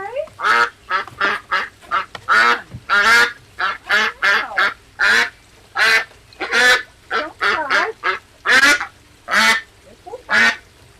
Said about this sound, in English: I'm just going to go get my duck. He sounds to be crying.